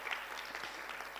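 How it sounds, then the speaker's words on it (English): Audience clapping at a high-level leaders' breakfast meeting in Kenya: a brief, dense burst of steady applause from a crowd, fairly even in loudness, with no talk over it. "Clap for them at the court."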